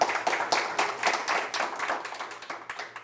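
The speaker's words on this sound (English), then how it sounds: "Can we give him a round of applause as well?" Audience clapping to welcome a guest at an executive summit interview, individual claps in a loose rhythm that swell at first and then gradually thin and fade, with no other sound.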